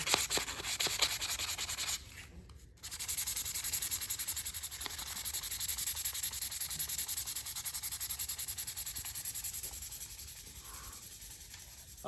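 The wooden handle of a recurve knife is sanded smooth by hand, a close, continuous rasping rub in steady strokes with one short pause, no voices.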